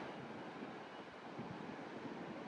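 Ocean waves and wind at a beach in North Myrtle Beach, a faint, steady wash of surf blended with soft wind noise, without talk.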